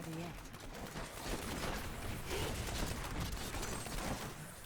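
Demon Hunter's Multishot in Diablo 3 fires as a dense, continuous barrage of overlapping arrow impacts and combat noise, steady and loud throughout with no pauses.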